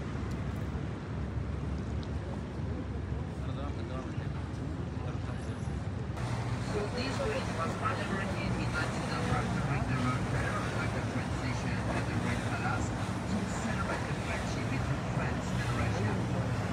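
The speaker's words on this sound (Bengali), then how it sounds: "এই যে বোটটা পার হচ্ছে" A tourist restaurant boat passes on the Seine river in Paris, its low engine rumble blending with broadband wind and water noise. The sound is steady throughout and grows somewhat fuller partway through.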